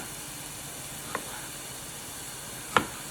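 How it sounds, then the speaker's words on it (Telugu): Onions frying in a pan on the stove for a mushroom curry, giving a faint steady sizzle with two brief clicks or stirring taps, and nobody speaking. "ఈ ఉల్లిపాయలు బ్రౌన్ కలర్ వచ్చే వరకు, కొంచెం గోల్డ్ కలర్ వచ్చే వరకు వేయించుకోవాలండి"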